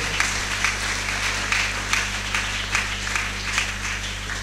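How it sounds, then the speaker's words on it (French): A church congregation claps during a Sunday worship service, a steady, even patter of many hands carried over a low constant hum in the room, with no voices audible. "Applaudissons l'Éternel."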